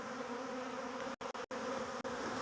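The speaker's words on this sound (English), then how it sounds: "bees are still just coming to this area" A swarm of honey bees buzzes as a dense, continuous drone close at hand, broken by a few abrupt short dropouts, with no voices.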